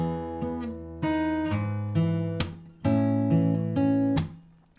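An acoustic guitar plays the opening melody line of a song, close and clear, as a handful of plucked notes and chords rings out with percussive slaps between them.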